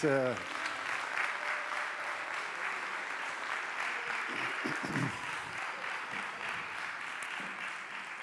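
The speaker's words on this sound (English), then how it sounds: "Let's give another applause, please." Audience applause at a folk music festival seminar in Kaustinen, following a performance by a young folk music group; steady sustained clapping with a brief tonal sound at the start and faint voices underneath.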